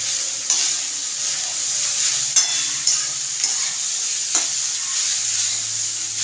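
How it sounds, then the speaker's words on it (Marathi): A spoon stirs coriander into tempered rice (phodnicha bhat) in a pan, giving soft scraping and rubbing strokes over a continuous gentle sizzle, close and steady with no talk. "भरपूर अशी कोथंबीर टाकते मिक्स करून घ्यायचं"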